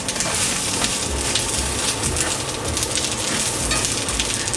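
Shishito peppers sear in a hot pan with a steady, loud, dense sizzle that runs without a break while tongs stir them.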